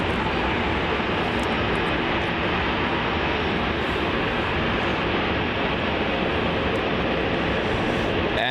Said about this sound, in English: looks like we have a little Rex 737 taxiing in here to Terminal 3